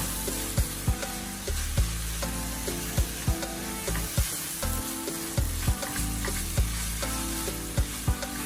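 Bolognese sauce sizzles steadily in a pan while a utensil stirs it, with regular clanking scrapes against the pan every second or so, close and fairly loud with no talking.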